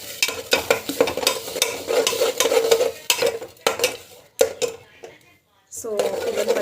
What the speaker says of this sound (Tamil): ஸோ டமாட்டா பியூரி ஆட் பண்ணிவிட்டு நல்லா வந்து வதக்கிருக்கோங்க.